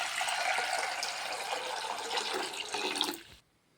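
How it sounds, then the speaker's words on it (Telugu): Water pours steadily into a pot on a gas stove with a full, splashing rush for about three seconds, then stops abruptly. "తర్వాత ఇందులో నీళ్ళు పోసుకోవాలి."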